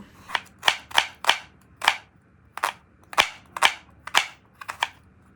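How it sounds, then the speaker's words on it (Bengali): A knife chopping onions on a board, about a dozen sharp, crisp cuts at an uneven pace, each one clear and close with quiet gaps between. "মাখানো মাছগুলোকে সাইডে রেখে এবার পেঁয়াজগুলোকে কেটে নেব"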